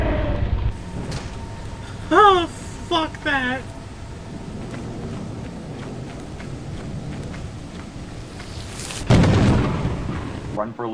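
Loud thunder from a lightning strike in the video game Lethal Company, a broad low rumble swelling near the end over steady rain-like noise, with voices and bursts of excited talk earlier in the scene.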